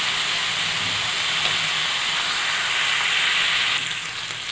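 Pumpkin seeds frying in ghee while being stirred, producing a loud, steady hissing sizzle that drops slightly near the end; no talking.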